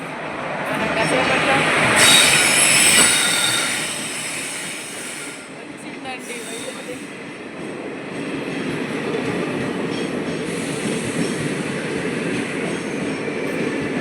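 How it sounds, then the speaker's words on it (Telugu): A train arrives at a railway station. It rolls in with a loud, steady rumble that swells in the first few seconds, then keeps a continuous grinding wash with faint metallic squeals and murmuring background voices. "ట్రైన్ వస్తుంది"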